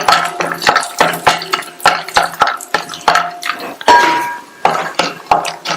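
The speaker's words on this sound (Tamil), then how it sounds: "இந்த பேன்ல 2 டீஸ்பூன் நெய் சேர்த்து நெய் உருகினதும் 20ல இருந்து 25 முந்திரியை சேர்த்து 2 நிமிஷத்துக்கு நல்லா வறுத்துக்கங்க." Cashews frying in ghee in a pan, with repeated clinks and scrapes of a spoon against the metal as the nuts are stirred, busy and close throughout.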